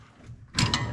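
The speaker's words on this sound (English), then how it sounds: "Gotta loosen up that 1/2-inch jam nut." A wrench works a 1/2-inch jam nut on the spring of a Gleaner combine slip clutch during a rebuild. Quiet mechanical fumbling gives way to a louder burst of metallic ratcheting and grinding clicks close by, with no talking.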